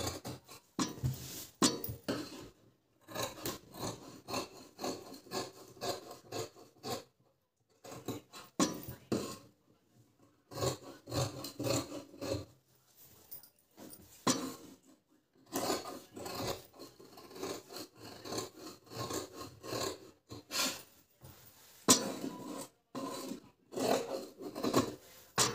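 Scissors snip through blouse fabric during katori blouse tailoring, in bursts of close, crisp cuts separated by short pauses, with no talking.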